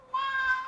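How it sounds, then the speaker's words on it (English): A cat meows once in a single sustained, fairly loud cry lasting just over half a second, heard close up with no talking around it. "If she's gonna meow, she's gonna meow."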